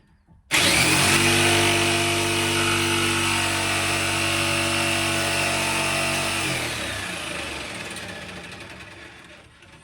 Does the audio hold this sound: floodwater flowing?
no